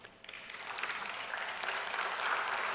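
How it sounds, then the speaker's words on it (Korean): Church congregation applauding in praise during a sermon, a steady, moderately faint wash of many hands clapping that swells slightly and holds without voices on top. "고마우신 분만 하나님께 영광의 박수."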